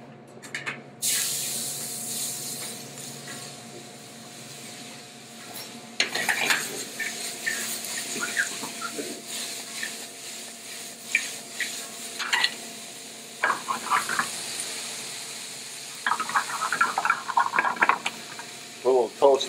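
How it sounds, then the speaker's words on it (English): Steady sizzling hiss of butter in a hot skillet with occasional stirring scrapes, continuous beneath someone talking. "When you don't hear that thing, that butter sizzling, you know you better get on it"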